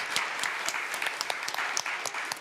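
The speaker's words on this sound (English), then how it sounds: "A big round of applause for our panelists" An audience at a panel discussion on city planning and transport claps in a brief, even burst for the panelists, with the scattered claps close and lively.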